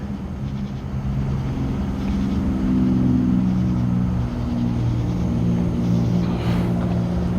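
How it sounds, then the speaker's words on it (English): A scooter ridden outdoors during a walk in Stockbridge, Georgia gives a steady droning motor hum with low rumble, swelling slightly midway and holding constant with no talk. "ride my scooter."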